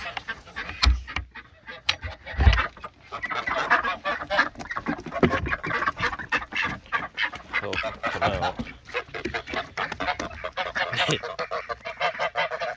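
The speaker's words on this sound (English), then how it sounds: "Got 3 geese and 3 pecking ducks in this pack" Three geese and three ducks crowd a backyard homestead coop, honking and clucking almost nonstop at close range, with a few sharper, louder calls early on.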